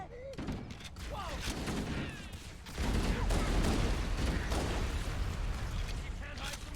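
Rapid bursts of video game gunfire and explosions crackle through an online shooter match, growing louder and denser midway, with excited players chattering over the action.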